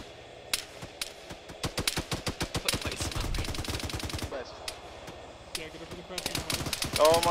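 Rapid bursts of automatic gunfire in a video game firefight, dense clattering volleys with sharp single shots, fairly loud, with players talking over the shooting.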